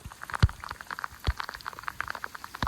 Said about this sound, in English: Gravity fed system, pop up, just spewing water out right now.